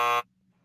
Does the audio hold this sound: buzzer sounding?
yes